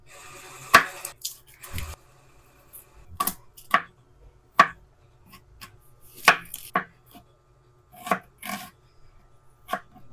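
A knife chopping garlic and other ingredients on a board, with irregular sharp close taps and scrapes spaced by brief pauses and no talk.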